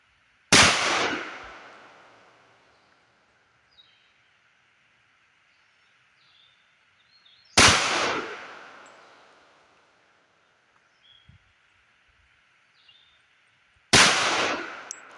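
A Tisas M1911 .45 pistol fires three loud, sharp shots at an outdoor range, spaced roughly seven seconds apart, each with a long echoing decay into quiet.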